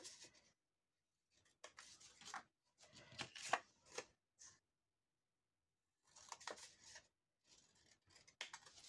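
Quiet, close snips and scraping cuts come as a blade or scissors works through card at a bevel for a handmade greeting card, in short bursts separated by silent pauses.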